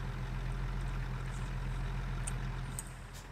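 In the video game GTA 5, a truck engine idles with a steady low rumble, continuous and close, with a few faint higher ticks near the end and no voices.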